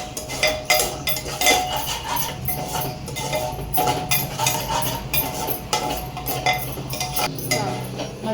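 Cashew nuts fry in ghee in a pan while a metal spatula clinks and scrapes against it in quick irregular strokes, close and fairly loud over a soft sizzle, with no talk.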